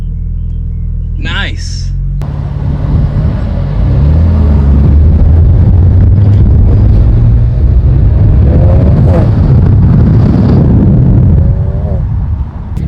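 A BMW fitted with a VRSF aftermarket exhaust rumbles loud and close through a downshift, with engine roar swelling and holding steady, while a voice speaks briefly over it.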